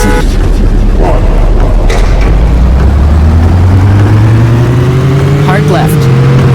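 Race car engine in the video game Top Speed 3, a loud droning whine whose pitch climbs steadily as the car accelerates, with a voice speaking over it.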